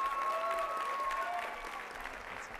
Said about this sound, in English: let's give Grant a round of applause.